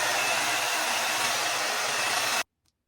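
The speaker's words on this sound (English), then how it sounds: "I'm gonna get my blow dryer." Hand-held blow dryer drying glue on a wig install: a loud, steady close-up roar of rushing air holds for over two seconds, then cuts off abruptly into near silence.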